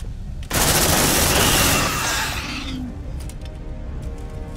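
Sentry gun in Aliens: Dark Descent on nightmare difficulty opens up with a dense, loud burst of sustained automatic fire lasting about two seconds, then trails off into a softer rumbling tail.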